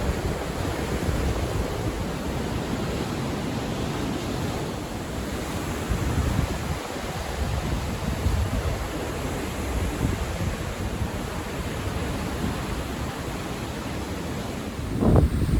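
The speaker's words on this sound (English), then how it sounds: "Just through this tree here, sea raging." Rough storm surf roars continuously off the Isle of Wight during Storm Francis, with heavy wind buffeting the microphone, a steady dense wash of noise throughout.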